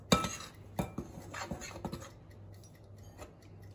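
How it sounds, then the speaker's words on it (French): Flour and vanilla sugar being mixed in a bowl, with a few scraping, clinking strokes of a utensil against the bowl near the start, then softer faint stirring over a low steady hum. "Je mélange bien."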